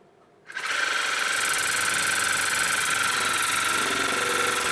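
A Mirapretty portable cordless dental oral irrigator with a 600 ml tank switching on, then running with a steady, high-pitched motor whine and buzz that holds even and loud after a brief ramp-up.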